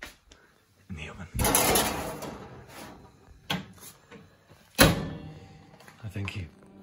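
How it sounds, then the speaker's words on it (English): An oven door opens with a clunk, followed by a broad rushing scrape and a sharp thunk as a pie goes in, with a few smaller knocks in a kitchen. "So let me just open the oven door and place pie in the oven."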